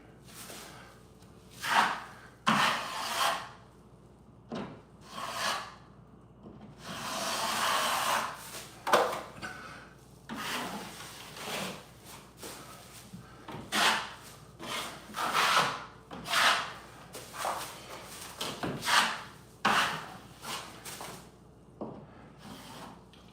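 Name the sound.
knife spreading drywall joint compound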